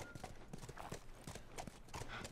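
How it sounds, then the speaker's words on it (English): Rhythmic clip-clop of horse hooves in The Last of Us video game, a close, even trotting beat of sharp strikes repeating steadily with faint background ambience. "I guess she's going to ride the horse and follow."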